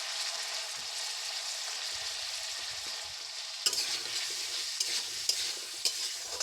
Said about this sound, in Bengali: এতে হলুদ গুঁড়ো এবং লঙ্কা গুঁড়ো ও স্বাদ মতো লবণ দিয়ে কিছুক্ষণ আবার ভেজে নেব।